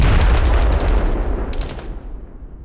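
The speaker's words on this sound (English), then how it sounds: "Taking gunfire over here." Heavy gunfire booms and rattles in rapid bursts during military squad training, loud and rumbling, then trails off into echo.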